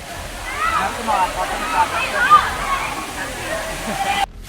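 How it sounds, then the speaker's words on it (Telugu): Penchalakona waterfall, the third falls along the trail, rushing and splashing steadily at moderate distance in a continuous wash of water that cuts off abruptly near the end. "ఇదే గైస్ మూడో వాటర్ ఫాల్స్"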